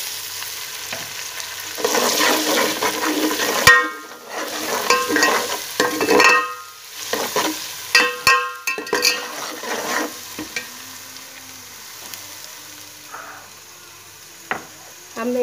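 Whole spices such as bay leaf, black cardamom, cinnamon, cloves and black pepper sizzle in hot oil in a pot for a Kashmiri chicken yakhni pulao, with close, repeated stirring scrapes that fade to quieter frying.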